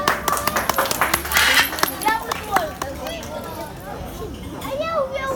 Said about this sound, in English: Please go to the applause for our cyclist.